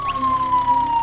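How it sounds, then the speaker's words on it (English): A fire truck siren in a children's vehicle cartoon sounds as one loud, steady wailing tone that drifts slightly lower, heard on its own for about a second. "Did you hear the siren?"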